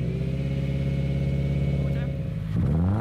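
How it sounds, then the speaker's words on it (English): A 2015 Subaru Impreza base model boxer engine idles through a Nameless catback exhaust, a steady low rumble that swells into a brief rev near the end. "here we have the Nameless Catback Exhaust, which gives it the Subaru, the nice boxer rumble"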